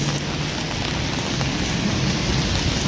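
Steady rain pours down on the streets of Seville, Spain, a dense continuous hiss of drops on surfaces, close and even throughout.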